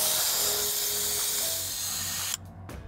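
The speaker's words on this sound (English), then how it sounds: "it's simply a matter of just using the slide release to let the air out to the desired pressure" Air hissing steadily out of vehicle tyres through a MAXTRAX Indeflate deflation valve, a loud, constant high rush that cuts off abruptly near the end, leaving quieter rustling.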